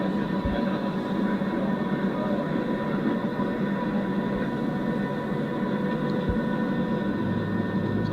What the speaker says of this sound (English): We're powering up. Looks like we've been cleared for takeoff.